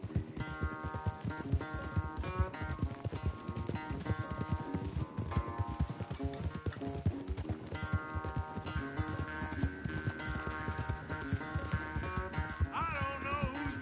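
Hooves pound in fast, rhythmic galloping as horses race in Red Dead Redemption, loud and continuous, with music and a brief whinny under the steady beat.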